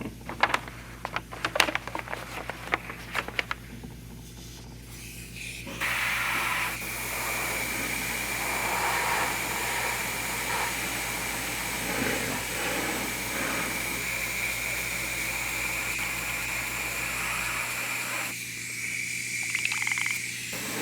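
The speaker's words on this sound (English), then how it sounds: "I think it just went straight down to the bottom of the airbrush, so it's clogging it up." An airbrush loaded with thickened paint sprays in a long steady hiss with a sputtering tonal edge as it clogs, preceded by scattered clicks and handling noises, then cutting off near the end.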